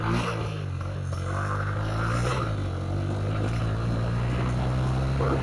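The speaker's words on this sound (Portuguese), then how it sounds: "Quando a moto começa a querer ficar sem gasolina, ó, fica se apagando, apagou." A motorcycle running out of gasoline idles with a steady low engine drone that wavers and dips as it sputters toward stalling, close and continuous throughout.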